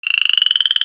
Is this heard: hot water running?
no